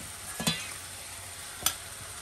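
Fish drop into hot frying spice paste in a pan, giving two brief sizzling bursts over a quiet background.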